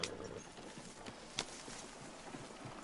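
Horse hooves in Red Dead Redemption 2 clip-clop faintly and steadily at a walking pace, with one sharper hoof strike standing out among the quiet rhythmic footfalls.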